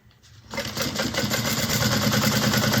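A sewing machine stitches a fabric bag, starting up after a moment and running in a fast, steady mechanical rattle that builds slightly in loudness, close by.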